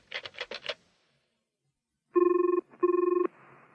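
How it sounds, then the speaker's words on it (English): A telephone rings in two sustained electronic bursts, clear and close, after a short run of quick button tones. "It was ringing. A man answered the phone."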